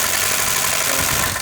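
A 2007 Mercedes ML500 V8 with a faulty oil pump runs noisily, a close, continuous rough mechanical clatter and hiss with a diesel-like knock, heard alone for a brief moment.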